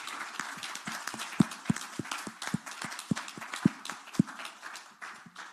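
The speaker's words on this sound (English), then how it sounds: "give them a round of applause" Applause for a climate conference panel at a COP27 side event in Egypt, a brisk run of claps with a few louder crisp hits standing out, moderately near and without talk.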